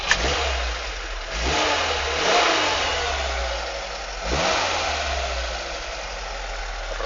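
Engine of a VAZ 2106 car fitted with a push-button start, running at a steady mid-pitched idle with several rises and falls as it revs up and down, close and loud. No one talks.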